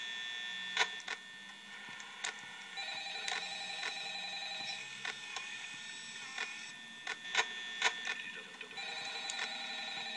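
Telephone in the Five Nights at Freddy's video game rings repeatedly in a quiet room, with short metallic bell bursts and electronic tones over a faint background hum.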